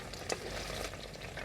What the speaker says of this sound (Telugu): ముందు బెండకాయ ముక్కలు కొద్దిగా లైట్గా వేపుకోవాలండి